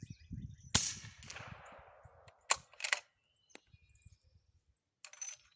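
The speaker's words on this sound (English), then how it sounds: "I'm gonna fire past the targets for the first shot so you guys can hear it" A suppressed Remington 700 scout rifle fires subsonic rounds, giving a sharp, fairly quiet crack followed by a fading rush, then a few more brief metallic clicks and knocks from the bolt and target, with no talk.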